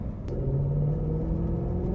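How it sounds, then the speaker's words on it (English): A BMW E90 M3 engine gurgles and rumbles steadily from inside the car while driving, a continuous low drone with no talking. "You hear this gurgling, and that's probably the car sucking down the gas."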